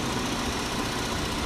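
A 3.6-liter direct-injection VVT V6 in a 2015 GMC Acadia Denali runs at a steady idle, a constant dense hum and faint ticking with no voices.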